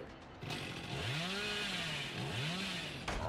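A chainsaw revs in Dead by Daylight, wielded by the Hillbilly, with a loud, sustained buzzing drone whose pitch swoops up and down in repeated surges over steady background noise.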